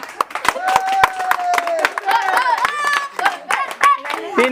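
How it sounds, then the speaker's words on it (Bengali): Scattered hand claps from a small group ring out over lively chatter and voices, uneven and close, lasting a few seconds. "দর্শক মন্ডলী তিনজনের উদ্দেশ্যে হাতে তালি দেন করতালি"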